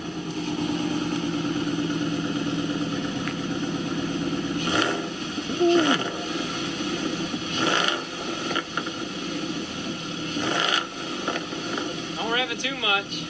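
A car engine that has just been started idles with a steady hum, then revs in several short bursts, while voices talk over it.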